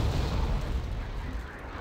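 In the strategy game Wargame: Red Dragon, helicopters that are shot down explode, giving a deep rumbling blast that fades over a couple of seconds.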